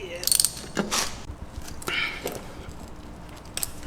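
Ratchet clicking as a 14mm bolt is worked loose on a worn 26-year-old Mazda Miata motor mount, with short bursts of metallic ratcheting and a few clanks of tools in a quiet garage.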